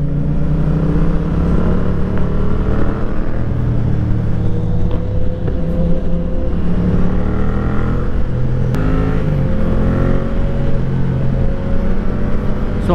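A Suzuki GSX-R1000 sport motorcycle with fat tires heard while riding, its engine a loud continuous drone with gliding pitch changes as it speeds up and eases off, heavy wind rush around it.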